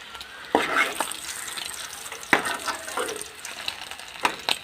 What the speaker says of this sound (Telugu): సో అల్లం, వెల్లుల్లి, జీరా ఇక్కడ దంచుతున్నాను రోల్లో కొట్టి